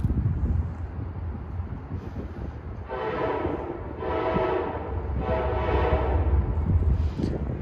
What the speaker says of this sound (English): That is the Metro train, or the Metro North train.